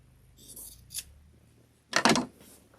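Scissors cut through quilt fabric scraps for a table runner: a soft snip, then a louder crisp double snip near the end, close and quiet, with no talking.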